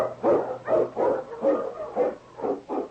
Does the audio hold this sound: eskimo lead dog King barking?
yes